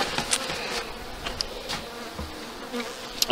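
Honey bees hum busily at a hive during autumn feeding before wintering, a dense, close buzzing with scattered short knocks and no voices.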